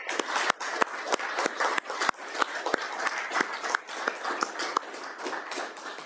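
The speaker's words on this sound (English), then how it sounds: "I would like to give you a real round of applause and thank you." Applause from a small audience at a council meeting, a steady patter of sharp individual claps with audible gaps, fairly close and sustained throughout.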